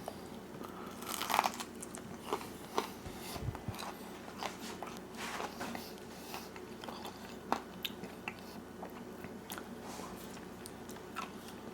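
Someone bites into a crunchy air-fried zucchini stick coated in cornflake crumbs, giving close crisp crunches followed by steady chewing and crackling for several seconds, with no talking.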